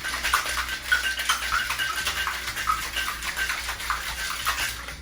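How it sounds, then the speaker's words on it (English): A covered cocktail shaker holding a virgin mojito is shaken at a medium pace, giving a dense, continuous rattle and slosh with a quick rhythmic pulse. "grab my shaker with the cover and just shake it"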